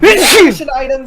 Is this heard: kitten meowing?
no